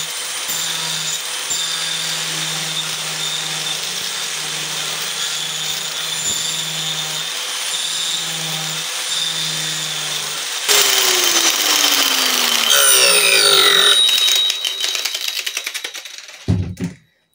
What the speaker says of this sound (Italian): Andiamo a vedere questo disco che va sulla smerigliatrice.